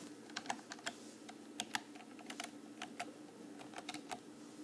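Quiet, steady typing on a computer keyboard, a rapid string of close, crisp keystrokes over a low background hum, with no voices.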